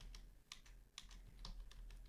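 Someone types a command on a computer keyboard, with about a dozen faint, quick keystrokes tapping in an uneven rhythm against a quiet background hum.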